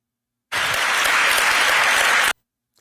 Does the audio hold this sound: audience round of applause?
yes